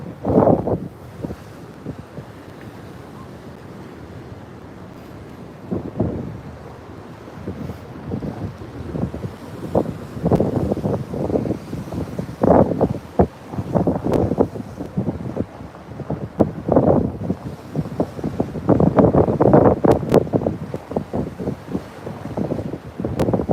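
Ocean waves surge and wash against a coastal seawall as strong wind buffets the microphone, the roar rising and falling in repeated swells that grow louder toward the end.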